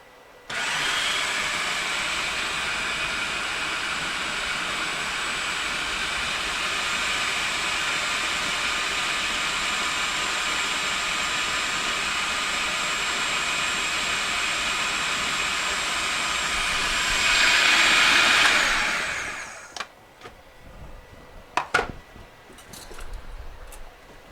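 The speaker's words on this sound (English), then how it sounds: "I'm going to go back to grinding or blending our tomato" Kitchen blender whirring steadily on tomato for Italian sausage pasta, a constant loud motor drone lasting about seventeen seconds that swells briefly before cutting off, followed by quiet clinks and knocks.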